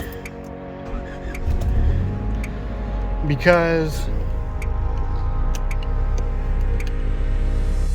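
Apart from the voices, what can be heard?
Honda car engine starting and idling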